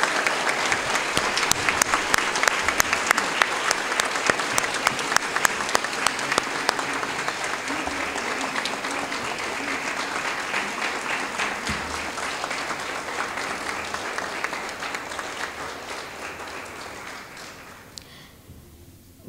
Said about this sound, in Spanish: Ruego a la estimada concurrencia que brindemos un caluroso aplauso